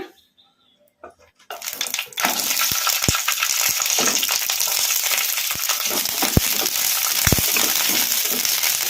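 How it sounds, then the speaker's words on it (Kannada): Green chillies fry in hot oil over a medium flame for a village-style roasted brinjal chutney. Near-silence gives way to a sudden loud, steady sizzle, broken by a few sharp ticks and pops. "ಮೀಡಿಯಮ್ ಫ್ಲೇಮಲ್ಲಿ ಹಸಿಮೆಣಸಿನ್ಕಾಯಿನ ಫ್ರೈ ಮಾಡ್ಕೋಬೇಕು"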